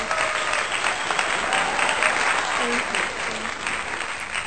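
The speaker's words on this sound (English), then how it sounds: "insert the clapping" Steady clapping from a crowd, dense and continuous for a few seconds, with faint tonal traces of voices or music mixed in beneath it.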